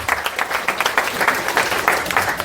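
Guests at a ball clap and cheer in lively bursts, dense rhythmic applause with rising and falling peaks, close and loud with a few shouts mixed in.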